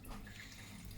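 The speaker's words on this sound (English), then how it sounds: "So as usual, let's wash properly the fruit." Steady stream of tap water running over finger lime fruit being washed, a continuous close splashing hiss without pauses, alone with no talking.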